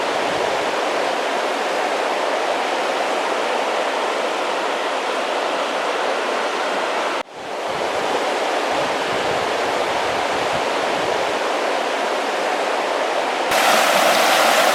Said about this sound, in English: the Spotted Bear River.